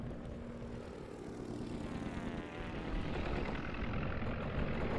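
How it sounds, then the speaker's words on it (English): Bomber aircraft in the World War I strategy game Commander: The Great War, a steady droning propeller engine hum that swells slightly louder toward the end, heard alone without talk. "let's just use the bomber on their artillery piece first"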